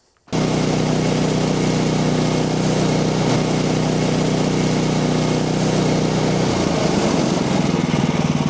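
Small engine on a manual band sawmill runs steadily and loudly after a throttle cable adjustment, with a slight shift in its tone near the end and no talking.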